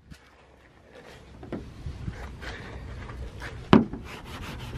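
A clay bar rubs across car paint lubricated with cleaner to lift overspray, giving soft repeated scraping strokes up close, with one sharper scuff near the end.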